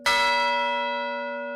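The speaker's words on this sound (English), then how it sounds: "It's a solid brass bell. It's got an unbelievably beautiful ring to it." The solid brass ship's bell of the USS Tennessee struck once, a bright clear ring with rich overtones that hangs and slowly decays, loud and close.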